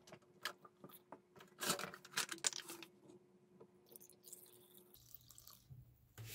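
Liquid glugs and splashes as it is poured from big containers kept in a bin into smaller bottles in a nail room, in short irregular bursts with drips, clinks and handling noises between pours.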